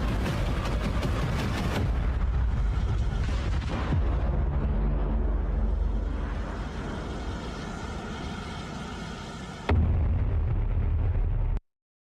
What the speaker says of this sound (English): Oh, that was a failed